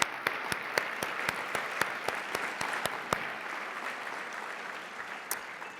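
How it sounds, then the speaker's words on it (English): Audience at the 2025 Pinnacle Awards giving a round of applause, steady crowd clapping with a few sharp, close individual claps standing out at the start. "now let's give all of these amazing people and companies a round of applause"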